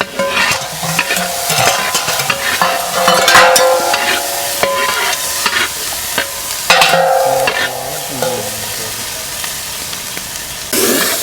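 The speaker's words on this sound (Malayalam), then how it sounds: "നന്നായിട്ടൊന്ന് മിക്സ് ചെയ്ത് കൊടുക്കുക. ഡ്രൈ ആയിട്ട് അങ്ങനെ വരണം." Chicken fries in a pan for village-style chicken varattiyathu as ground masala is stirred through it, with loud repeated scraping and clattering of the spoon over a steady crackling sizzle.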